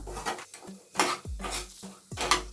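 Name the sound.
pot placed on stove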